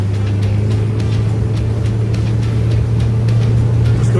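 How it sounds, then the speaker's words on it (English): New boat motor running hard at throttle during break-in, a loud steady drone with a constant low hum and water rushing past, no voices. "I can give you a 1 minute full blast run at wide open throttle."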